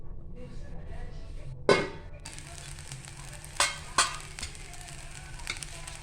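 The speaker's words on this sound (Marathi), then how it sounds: "इथे आपण पुन्हा एकदा ढवळून घेतोय। असंच आपण गरम होईपर्यंत दोनदा तीनदा ढवळून घ्यायचंय।" Food warming in a pan over a low gas flame is stirred, giving a soft steady sizzle with a few sharp scrapes and clinks of the spoon against the pan.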